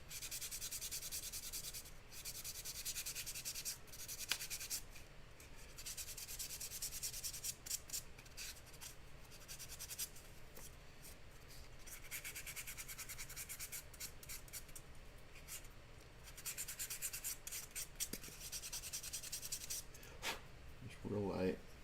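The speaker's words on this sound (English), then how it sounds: "So this is a microfine sanding sponge. It's about 800 grit sandpaper." Soft, steady scratching of light sanding strokes with a microfine 800-grit sanding sponge, faint and close, continuing without pause.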